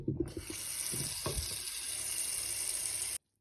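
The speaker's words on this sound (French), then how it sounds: "je vais stopper la cuisson en versant de l'eau fraîche" Cold water poured over hot cooked spinach in a pan, a steady hissing, splashing rush right up close after a few clanks, running continuously and then stopping abruptly, with no talk.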